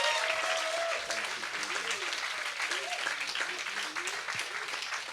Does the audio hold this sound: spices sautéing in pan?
no